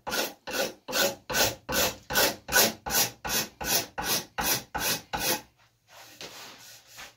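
A card scraper drawn toward the worker along a wooden axe handle, giving about a dozen regular rasping strokes, close and loud, followed by a quieter, scratchier stretch of handling at the end.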